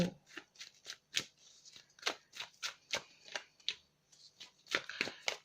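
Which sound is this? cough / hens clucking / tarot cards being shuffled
tarot cards being shuffled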